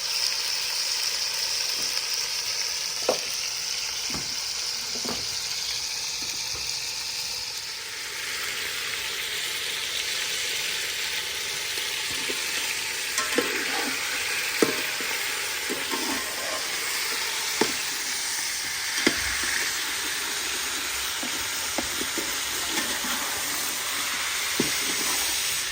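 Meat frying in a pot, seasoned with salt and black pepper, crackles in a steady, dense sizzle. Sharp knocks from stirring break through at irregular moments, all close and loud with no voices.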